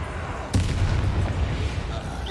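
A Bombarda spell explosion in Hogwarts Legacy: one sharp blast followed by a heavy, rumbling low boom that lingers for nearly two seconds, loud and close.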